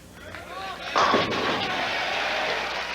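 A bowling ball smashes into the pins for a strike during a televised PBA professional bowling match, giving one loud crash that trails off into a clattering pin scatter and crowd noise.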